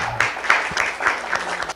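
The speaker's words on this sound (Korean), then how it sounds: "박수 한번" Applause for a football coach at a school talk, a short burst of hand claps that rises and falls under a lively room, with a voice breaking in near the end.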